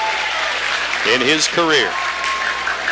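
A crowd cheers and applauds in a gym during a 2010 boys' high school basketball game between Jerseyville and Civic Memorial; the steady roar fills the whole stretch while a commentator talks briefly over it.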